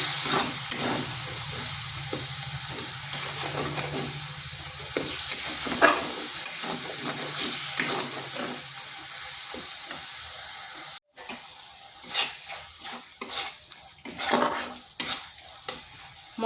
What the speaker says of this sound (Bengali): এরপর মশলাটা ভালো করে কষিয়ে নিতে হবে।